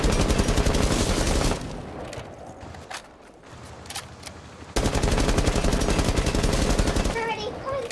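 Light machine gun fire in a competitive shooter video game, long sustained rapid bursts with a brief lull in the middle, loud and close, with game effects and some chatter mixed in.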